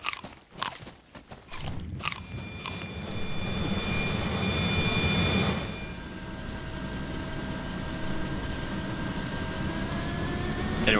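A helicopter in the DayZ Expansion video game starts with rapid rotor chopping that settles into a steady, loud engine whine and blade drone, with a rising turbine tone throughout.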